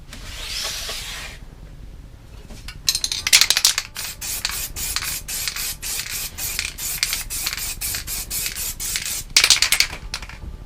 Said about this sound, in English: You should shake the can every minute or so of spraying just to keep the flow of the filler consistent.